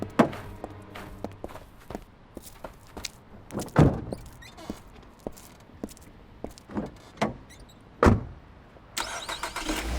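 A car door thumps and footsteps shuffle close by, then an engine turns over and the car pulls away in a street scene, with several sharp thuds and rising engine noise at the end.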